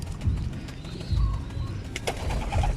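Pigeons in a loft of young birds give low, soft coos a few times over steady background noise, with no voices.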